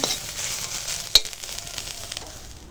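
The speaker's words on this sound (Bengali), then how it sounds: "দেখো কুমড়ো ফুল ভাজাটা এখন হয়ে গেছে" Pumpkin flowers frying in hot oil in a pan, a steady close sizzle with one sharp pop partway through, no voices.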